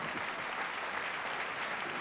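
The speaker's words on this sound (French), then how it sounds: "Un fuerte aplauso." A church congregation gives sustained applause during a worship service, a steady, fairly distant wash of clapping without a break.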